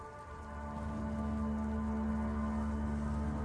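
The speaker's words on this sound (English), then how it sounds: "A strong thunderstorm developed the night before the festival." Steady rain from a strong nighttime thunderstorm in a visual novel game, a continuous dense hiss with a low rumbling bed and a sustained tone, swelling slightly then holding, no voices.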